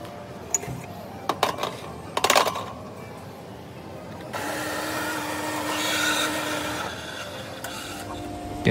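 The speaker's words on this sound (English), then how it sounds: "The coffee machine was pretty cool." An espresso machine in the Marhaba lounge at Changi Airport Terminal 3 makes a cappuccino: a few sharp clicks and clattering knocks, then a steady whirring hum with a whining tone as it brews and steams.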